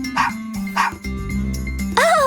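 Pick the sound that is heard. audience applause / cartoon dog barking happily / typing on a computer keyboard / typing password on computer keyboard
cartoon dog barking happily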